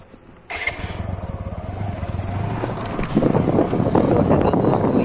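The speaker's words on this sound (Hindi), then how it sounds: "तो अभी हम राइड करने वाले हैं अपाचे 160 को गांव की सड़कों पे।" A white TVS Apache 160 RTR 160cc motorcycle starts on a village road, firing with a sudden catch and then settling into a rapid, pulsing engine chug that grows louder and rougher as it revs.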